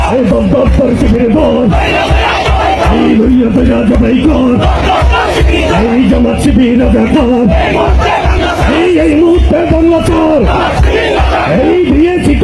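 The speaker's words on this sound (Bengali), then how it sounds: "রাজপথে নতুন স্লোগান উঠেছে রাজাকার মুক্ত বাংলা চাই" A large street crowd at a protest in Bangladesh chants a political slogan in unison, loud and continuous, with overlapping shouted voices rising and falling in rhythmic waves throughout.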